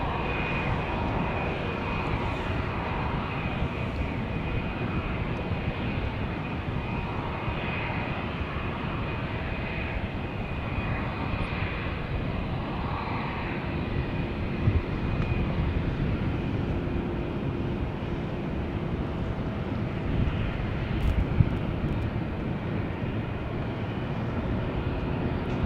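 A Boeing 747 jet taking off from runway 18R at Amsterdam Schiphol gives a continuous, broad engine roar with a rumbling low end, steady and moderately distant throughout.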